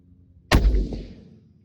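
A single .308 Creedmoor rifle shot firing a Barnes LRX copper bullet at an outdoor range: one sharp, loud, close blast with a brief echoing decay, alone with no talk.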